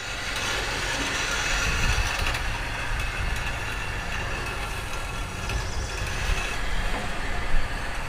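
Carriage of a portable sawmill rolling along its track with light pushing, a continuous rumbling roll close by that swells slightly in places and ends with a faint knock.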